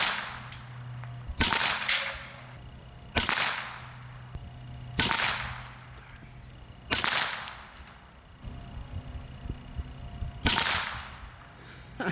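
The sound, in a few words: Huben GK1 semi-auto PCP air pistol shooting pellets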